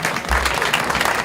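An audience at an anniversary celebration launch claps loudly, a brief, dense burst of applause close by with a low thump near the start.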